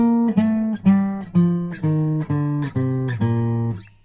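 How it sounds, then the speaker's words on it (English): A guitar steps down through a string of low notes, each plucked and ringing in an even rhythm, with the line descending steadily. "A section that requires a descending bass line"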